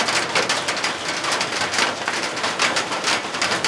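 Heavy rain falls steadily during an Earth Hour 2014 evening, a dense, even hiss of drops at close range with no voices.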